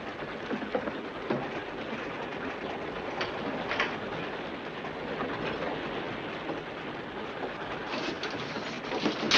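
Steady rumbling rush of a train running on rails in an old Western cowboy setting, a continuous, fairly faint noisy wash with occasional brief clanks over about nine seconds.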